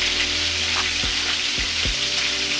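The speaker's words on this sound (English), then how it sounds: "If your pan ain't popping, then you ain't doing something right. So we got our chicken going." Chicken pieces frying in a pan, a steady loud crackling sizzle with occasional sharp pops, heard alone with no talking.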